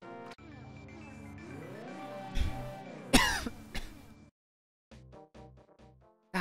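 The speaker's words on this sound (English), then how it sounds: "I'm just still coughing up some leftover crap from when I was sick" A man coughs and clears his throat a few times, sharp close hacks, while music and sound effects from a Zelda: A Link to the Past game play underneath, then short bursts of game sound follow.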